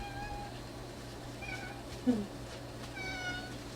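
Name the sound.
cat meowing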